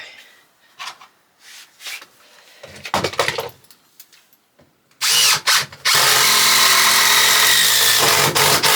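A four-year-old power drill whirs in short bursts while building shower stud walls in a MAN TGE campervan, then runs loud and continuous near the end, with scattered clattering and handling noises in between.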